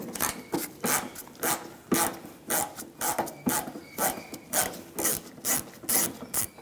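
A Phillips screwdriver works a screw out of the bumper cover on a 1997-2001 Honda CR-V, giving close, steady rasping and ratcheting scrapes in a regular repeating rhythm, with no talking.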